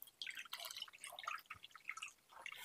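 Water drains from soaked soybeans in a kitchen strainer as a close, steady patter of drips and trickles, with no talking.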